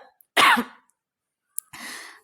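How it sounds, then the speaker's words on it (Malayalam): Two coughs from a person, the first sharp and loud, the second rougher and slightly softer after a short pause, close to the listener with no talk. "കൂടുതൽ വർത്തമാനം പറഞ്ഞപ്പോൾ ചുമ പറഞ്ഞിട്ട് കേട്ടോ"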